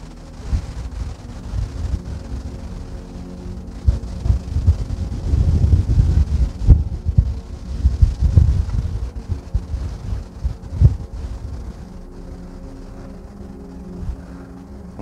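Gusty wind buffets the microphone outdoors, a low rumbling roar that swells and drops in irregular bursts, strongest in the middle of the stretch before easing toward the end.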